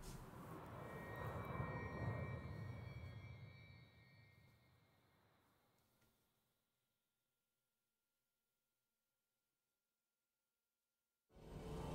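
Spaceship fast-travel whoosh in Star Wars Jedi Survivor, a loud jet-like engine roar that swells for a few seconds then fades away into silence, with a new sound cutting in at the very end.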